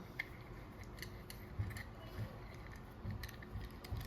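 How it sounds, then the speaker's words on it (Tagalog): A CO2 cartridge is screwed into the magazine of an Umarex T4E Walther PPQ M2 rubber ball pistol, giving faint close ratcheting ticks and small metal clicks at irregular intervals. "Luwagan nyo lang."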